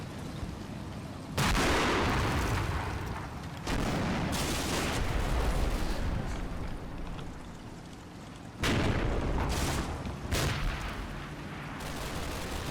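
Explosions from 60mm mortar rounds boom and crack in a series of heavy blasts, loud and close, each followed by a long rumbling roar that overlaps the next, with no voices heard.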